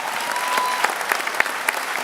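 Steady applause from a seated crowd at a farewell gathering for outgoing board members, dense and fairly close, with a few sharper individual claps standing out as it carries on alone.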